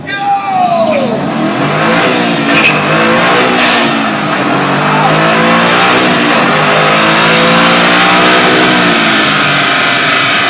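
A 2012 Ford Mustang Boss 302 engine revs at an auto show in Detroit, loud and close, climbing and holding at high rpm with sweeping pitch changes while a crowd cheers under it.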